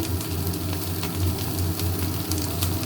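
Turmeric fries in hot oil in a pan, giving a loud, steady sizzle and crackle with a low rumbling undertone that runs continuously from start to finish, with no talking.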